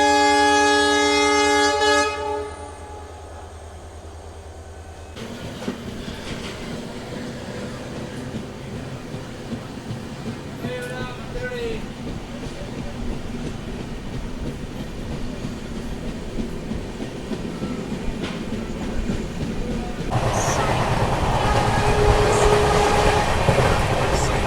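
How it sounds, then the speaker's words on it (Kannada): An LHB-coach express train pulls out of Chikkabanavara station with a long horn blast at the start, then a steady rumble and rhythmic clatter of wheels that swells louder near the end, heard from on board. "ಗುರು ಇದು ನಮ್ಮ ಟ್ರೈನ್ ಹೊರಟಿದೆ ಚಿಕ್ಕಬಾನ್ವಾರದಿಂದ"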